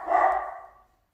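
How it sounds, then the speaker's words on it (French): A single dog bark rings out at a middle distance indoors, sharp at the start and trailing off quickly into silence. "vous entendez les chiens"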